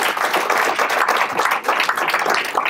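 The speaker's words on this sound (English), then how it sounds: "so give her a big round of applause" An audience breaks into loud, dense applause, many hands clapping steadily and close by for a few seconds with no talk over it.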